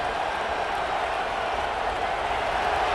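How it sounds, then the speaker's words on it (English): Steady, dense roar of a stadium crowd cheering at a college football game between Mississippi State and Notre Dame, a continuous wash of massed voices with no distinct pauses. "Listen to the crowd energy here in the early going."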